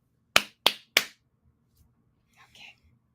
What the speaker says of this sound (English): Clappy claps coming up.